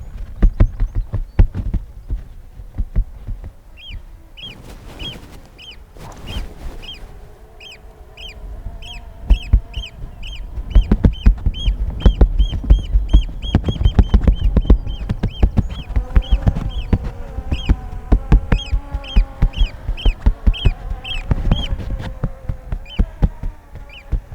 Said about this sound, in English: I was upsetting one of the birds from the beach.